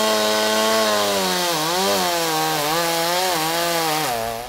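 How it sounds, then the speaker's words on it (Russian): Chainsaw cutting a large maritime pine tree into pieces in a seaside park, the engine loud and close, steady then wavering in pitch as the blade bites into the wood. "Рабочие пилят его по частям, используя так называемую оттяжку для контроля траектории падения."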